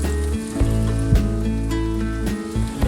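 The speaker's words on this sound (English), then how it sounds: "in the same skillet, I'm gonna add a little bit of olive oil just to make sure we have enough to saute our veggies in" Vegetables sautéing in olive oil in a skillet give a steady, close sizzle and frying crackle that holds fairly loud throughout, with low tonal hum beneath and a few brief stirring bumps.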